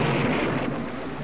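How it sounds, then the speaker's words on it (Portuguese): Steady heavy rain hiss with a deep low thunder rumble rolling beneath it, loud and continuous with no voices. "Tá chovendo."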